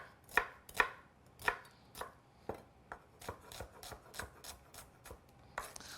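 A knife chopping red onion on a cutting board, a quick series of sharp close taps, roughly a dozen strikes in uneven rhythm, alone in a quiet kitchen.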